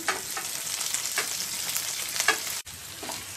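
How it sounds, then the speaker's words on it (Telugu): Chopped green chillies and coriander leaves fry in hot oil in a pan while being stirred, a steady close sizzle with scraping stirs and a brief knock near the end. "కలుపుతూ 2 నిమిషములు వేయించుకోవాలి."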